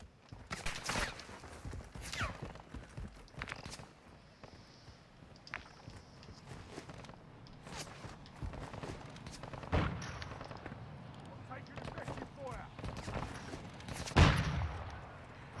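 Scattered gunshots in the video game Call of Duty DMZ, several sharp cracks spread irregularly across the stretch, some distant and faint, one louder near the end, over quiet game ambience.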